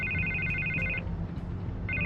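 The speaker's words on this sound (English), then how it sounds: "I can't get the phone to stop ringing." Electronic telephone ring in a video game, a two-tone trilling pattern that sounds for about a second, pauses, then starts again, over a low background hum.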